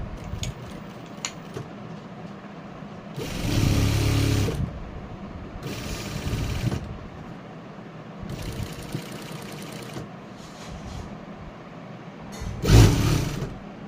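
A sewing machine stitches a garment joint in several short whirring bursts of one to two seconds each, separated by quiet pauses, with the final burst brief and sharp.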